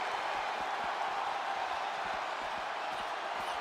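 A capacity crowd in the WWE 2K26 wrestling game, at a Hell in a Cell match, keeps up a steady, dense roar of cheering with no clear peaks, from start to finish.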